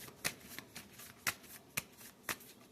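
Oracle cards from a Fated Oracle deck are handled and pulled in a quiet room, giving four or five crisp, evenly spaced snaps and flicks over soft paper rustling, close and fairly faint.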